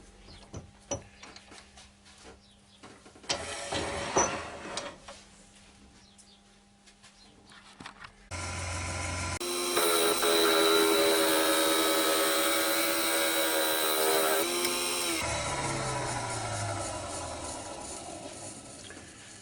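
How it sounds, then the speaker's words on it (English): A wood lathe turns an ash bowl while a parting tool cuts a groove, moving from quiet spinning and brief contact noises to a sustained loud, harsh cutting rasp that stops abruptly, then a lower whirring winds down. "I'm just using a parting tool just to put the groove in it"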